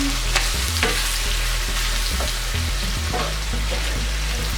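Beef taco filling with canned little chilies, garlic and onion frying in a pan, a steady close sizzle broken by repeated rhythmic scrapes and knocks of stirring.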